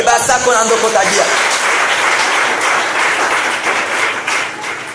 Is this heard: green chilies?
no